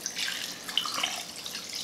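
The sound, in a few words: sweet tea being poured over fried chicken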